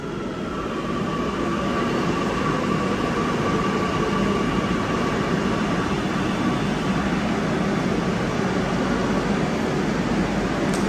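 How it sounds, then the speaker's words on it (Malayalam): A train rolls into a station in a steady, loud rumble of wheels and carriage noise that continues throughout, with a faint high whine running over the top. "ട്രെയിൻ വരുന്നുണ്ട്."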